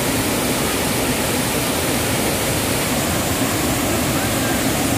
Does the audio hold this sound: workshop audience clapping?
no